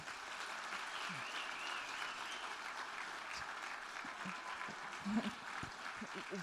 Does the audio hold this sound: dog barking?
no